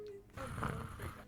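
A person imitates a cat snoring with their voice, giving a short breathy snore-like sound close to the mic, brief and soft.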